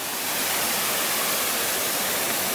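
Water crashing at the foot of a waterfall in Campos do Jordão, a dense, steady roar of spray heard up close and loud with no voices.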